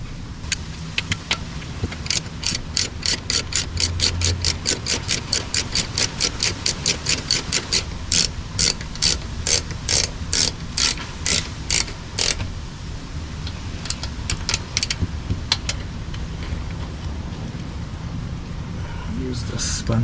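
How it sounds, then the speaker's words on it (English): Rapid ratchet spanner clicks in repeated bursts while a clutch release cylinder is being changed on a car, close and fairly loud, with a voice talking now and then alongside the mechanical creaks. "Use the spanner on that one."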